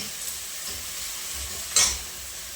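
Steady sizzling of onion, ginger, green chilli and tomato frying in hot oil, a soft continuous hiss with a brief louder crackle near the end.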